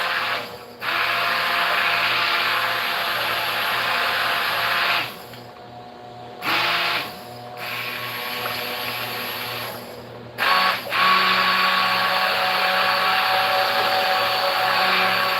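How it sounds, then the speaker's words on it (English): A stick blender whirs loudly in several bursts mixing soap to emulsion, with short pauses between runs, close by and steady while running. "let's go ahead and blend this together"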